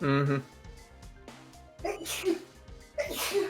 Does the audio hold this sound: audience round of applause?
no